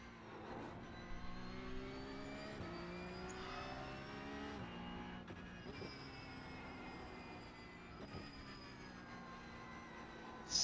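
A Porsche 911 Cup race car (992.2) roars steadily at Bathurst in a racing game, its engine note climbing through several gear changes with brief dips at each shift, loud and continuous with no voices.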